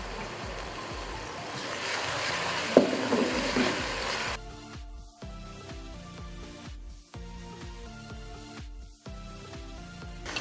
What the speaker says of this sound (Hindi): ये प्याज डाल दी और हाफ कप ऑयल डाल दिया मैंने